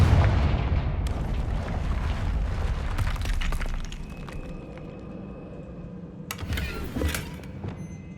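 A fiery Confringo spell explosion in Hogwarts Legacy: a loud, booming blast at the start, with a rumbling tail and further sharp bursts and crackles near the end, with no talk over it.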